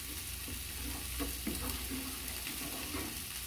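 Chicken in onion sauce steadily sizzling and bubbling in a pan, a continuous close frying hiss with soft stirring scrapes and no talk.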